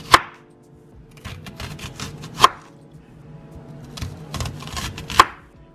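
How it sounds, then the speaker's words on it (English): Three sharp knife chops strike a cutting board as slices are cut from an onion, spaced about two and a half seconds apart, with quieter handling noises in between. "So we're just gonna cut a couple of slices of onions."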